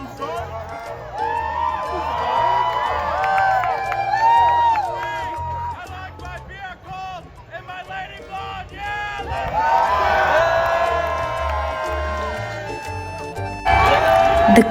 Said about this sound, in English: The crowd was filling in and going wild.